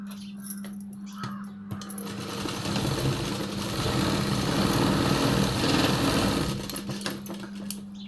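A sewing machine stitches a tuck into a blouse, its motor buzz building into a fast, steady whirring run that swells through the middle and then tapers off, close and alone.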